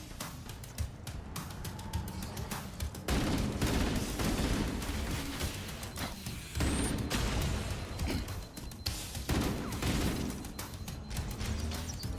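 Gunfire in the Halo Campaign Evolved video game, dense rapid bursts of shots and booming impacts in a near-continuous loud barrage with brief lulls, no talk.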